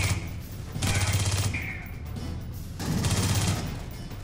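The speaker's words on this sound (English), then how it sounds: "Oh no, that's another auto turret there." An auto turret fires in Aliens: Colonial Marines in two loud rapid bursts of automatic gunfire separated by a short pause.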